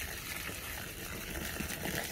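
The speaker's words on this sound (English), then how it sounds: "Get this mystery jar plenty of water too." Water pours into a mystery jar with a steady, close gushing splash that holds at an even level with slight fluctuations, and no voices are heard.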